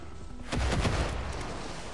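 A short burst of rapid gunfire in Far Cry 6, several close, loud shots rattling in quick succession before fading into a lingering rumble.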